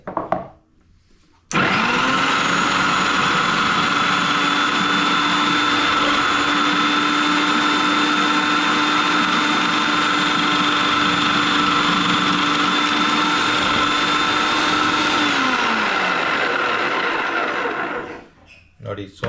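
An electric kitchen vegetable slicer runs steadily for about fourteen seconds while slicing cucumber, a loud continuous motor whine with a sustained hum that starts abruptly and winds down at the end.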